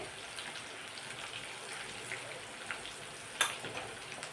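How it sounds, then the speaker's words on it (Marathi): Mustard seeds, garlic and curry leaves sizzle in hot oil in an iron kadhai, a soft steady crackle with a sharper pop near the end. "कढीपत्ता लसूण जिरं छान अशी मोहरीची फोडणी बसलेली आहे बघा"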